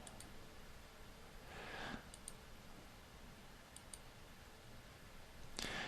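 A computer mouse clicking on a setup wizard, a few sharp isolated clicks spread across otherwise quiet room tone, close and faint, no speech.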